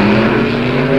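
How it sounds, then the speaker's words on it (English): A Chevrolet-based, fuel-injected, gasoline-burning altered roadster drag racing engine at the 1966 NHRA U.S. Nationals gives a loud, steady, continuous roar that holds for a moment with no talk over it. "His own fuel injection engine here, a Chevrolet base, burns gas."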